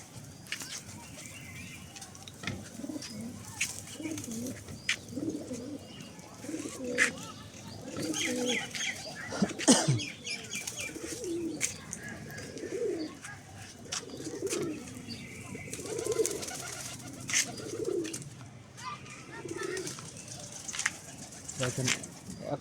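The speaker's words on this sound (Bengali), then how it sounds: "যেগুলো ডিমে বসেছিল ওইগুলো কবুতর এখন আসবে খেতে।" Pigeons coo in soft, repeating throaty phrases throughout, a steady rhythm of low calls with occasional chirps and a brief wing flutter, while a person talks at times.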